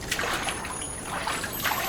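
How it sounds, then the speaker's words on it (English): Water trickling and splashing as a mermaid moves about in it, with soft irregular splatters and dribbles close by, continuous and fairly quiet with no talk. "Quit splashing."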